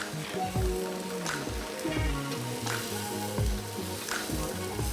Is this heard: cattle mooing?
no